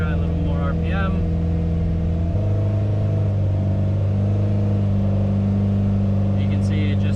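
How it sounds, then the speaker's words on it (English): A Ford F100 engine revs steadily on a dynamometer, a loud sustained drone that steps up to a higher, constant pitch partway through and holds there, with brief voices heard over it. "Let's try a little more RPM."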